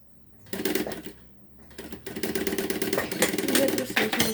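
A sewing machine stitches along the curved edge of a half-moon fabric pouch in short, rapid bursts of mechanical whirring, starting and stopping, close and clear.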